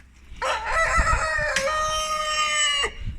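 A rooster in a chicken coop lets out one long, loud crow lasting a few seconds, close by, with a brief lower squawk just after.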